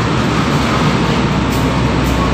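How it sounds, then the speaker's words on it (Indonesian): A train rumbles through Madiun station in Indonesia, a loud, continuous low roar heard up close with no voices over it. "Ini kereta api saja"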